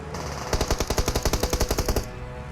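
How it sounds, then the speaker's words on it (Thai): Continuous automatic gunfire in the PUBG Mobile battle royale game, a loud, rapid burst of evenly spaced shots lasting about a second and a half and heard alone. "ตรงที่เพื่อนเราอยู่เสียงปืนดังสนั่นต่อเนื่องเลย"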